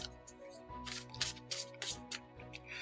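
A deck of thin oracle cards is shuffled close by, a series of quick riffling, papery bursts repeating over a few seconds.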